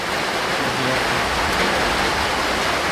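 Steady heavy rain falling outside a house, a dense even hiss that stays loud and unbroken throughout, with no clear voices over it.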